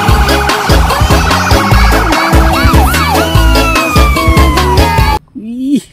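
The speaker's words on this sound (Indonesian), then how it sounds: "Wow, yang ini mobil ambulan." Wailing ambulance siren sweeps over busy music and toy-like sounds, loud and close, followed by a short quieter siren warble at the end.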